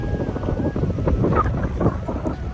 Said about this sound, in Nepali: लास्टै हावा चलिरहेको छ